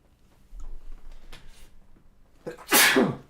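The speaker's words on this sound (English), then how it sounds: "Oh, what's made me sneeze so much?" A single loud, close sneeze bursts out near the end, preceded by a quick sharp inhale and some quiet shuffling.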